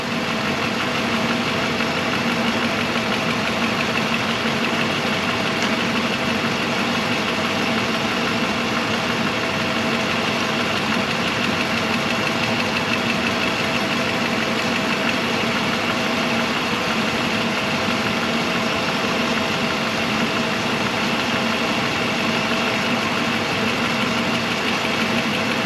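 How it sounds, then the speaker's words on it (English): A Mercedes W126 500SE V8 engine idles smoothly and steadily, a soft, even mechanical hum with a constant low rumble heard up close throughout, no speech over it. "Engine is running softly, it's excellent."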